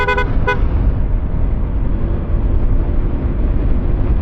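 A loud horn on a Honda ADV 160 scooter gives two quick honks at the start, then fades into steady road and engine rumble as the ride continues.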